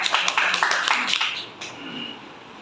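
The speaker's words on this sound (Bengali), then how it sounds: "একটা হাততালি হবে।" Audience applause at a seminar on the student uprising and interim government, a crowd clapping in a dense burst of claps that fades out after about a second and a half into quiet room noise.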